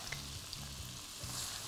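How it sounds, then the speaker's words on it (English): Onions and garlic fry in oil and foaming butter in a pan, making a steady sizzle with faint stirring and no talk. "So just fry these for about 4 or 5 minutes until they're really lovely and soft."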